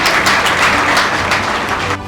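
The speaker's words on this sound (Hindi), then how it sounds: "आपकी तालियां जोरदार होनी चाहिए" Loud, dense applause from an audience at a silver jubilee hospital celebration marking 25 years of knee replacements, continuous clapping that fades out near the end.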